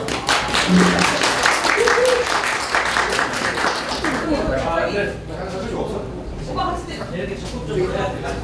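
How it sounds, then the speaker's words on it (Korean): An audience claps before a bluefin tuna cutting show, a loud burst of many hands for about four seconds, with voices over it, then the clapping thins as people keep talking. "박수 쳐주세요"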